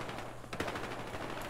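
Rapid bursts of automatic gunfire in the video game Battlefield Hardline, a short dense rattle of shots at moderate level with no talking.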